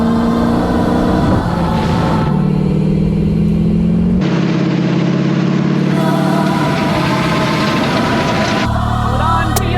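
A trophy truck engine roars and shifts through changing revs on a hot lap, loud and close, with rumbling, wind-buffeted cabin noise throughout.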